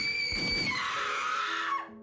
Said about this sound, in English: the screams replacing the comforting soft melodies